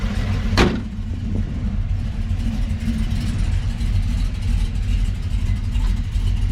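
Car fitted with a Texas Speed cam pulling away, its engine a steady low rumble throughout, opened by one sharp thump, with no talking.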